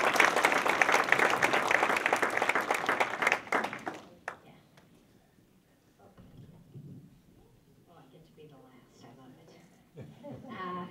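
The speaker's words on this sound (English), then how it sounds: "Let's have a round of applause for Maureen." Audience applause fills a hall of fame ceremony, a dense sustained clapping that fades out after about four seconds, followed by quiet room noise and a voice speaking.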